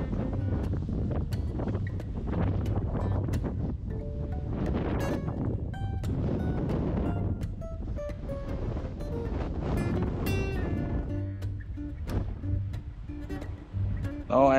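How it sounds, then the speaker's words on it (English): Strong wind buffets the microphone on the open deck 10 of the Carnival Luminosa cruise ship in adverse weather, a steady loud roar with gusty rumble throughout and a voice speaking over it. "the wind is a bit better now, but still a little bit strong, but better than before"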